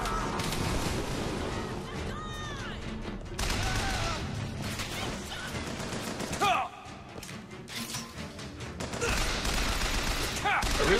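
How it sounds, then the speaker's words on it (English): Crank gun fire in BioShock Infinite, rapid bursts of shots with explosive impacts and thuds amid a busy battle mix, loud and continuous across the clip. "I really like this crank gun"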